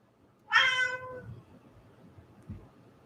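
A house cat gives one clear, fairly loud meow near the microphone with a falling pitch, followed by quiet room sounds and a soft thump.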